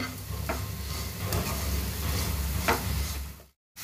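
Carrots frying in a pan for carrot halwa get stirred as sugar is added, a close, steady sizzle with scraping strokes of the spoon that stops abruptly near the end.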